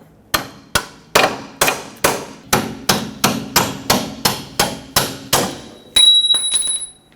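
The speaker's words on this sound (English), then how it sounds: "Punch the bolt out." Fourteen sharp hammer blows on a steel punch drive a lower control arm bolt out of a 2006-2010 Hyundai Sonata, struck at a steady, fairly quick pace, loud and close, ending with a brief ringing metallic clang.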